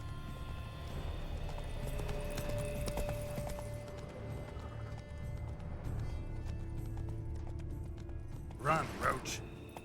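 A horse galloping in The Witcher 3 video game, steady rapid clip-clop hoofbeats running throughout, fairly close, with game voices speaking over it and a short burst of sound near the end.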